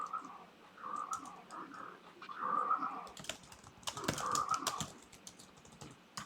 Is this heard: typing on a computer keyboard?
yes